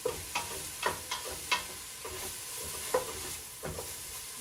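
Onions sautéing in a pan until translucent, a soft steady sizzle broken by a series of light spoon stirs and scrapes, close and fairly quiet.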